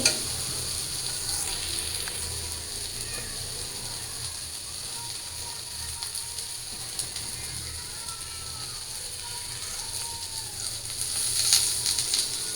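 A pan of meatless vegetable bhaji, made without eggplant, sizzles steadily and loudly at close range while occasional scraping stirs cut through the constant frying hiss.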